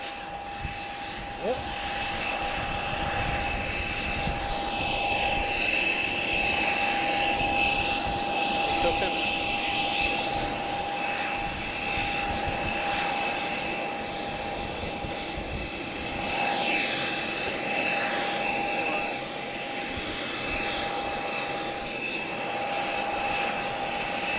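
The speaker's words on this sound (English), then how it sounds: "so good to see a Spitfire after so long" Spitfire flying at an airshow in Portugal, a distant engine hum that rises and fades gently over time, faint and steady, with someone talking over it.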